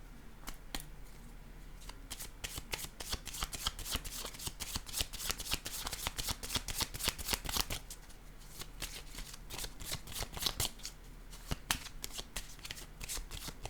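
Tarot cards being shuffled over and over, a steady stream of close, crisp riffling and flicking with short pauses and no voices.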